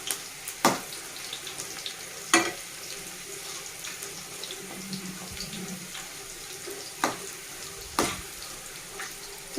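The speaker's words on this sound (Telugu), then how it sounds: "ఓన్లీ వంకాయలు ఆయిల్లో ఫ్రై చేస్తున్నాను" White brinjals (eggplant) frying alone in oil in a pan give a steady close sizzle and crackle, broken by a few sharp clinks of a utensil, with no talking.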